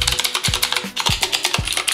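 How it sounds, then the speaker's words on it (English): Sharp clicky keystrokes from a Drop ALT 65% mechanical keyboard with blue switches, a quick irregular run of close, crisp clacks with a few heavier thuds, heard alone. "it's very clicky keyboard."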